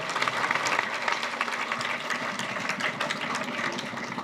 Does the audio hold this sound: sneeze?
no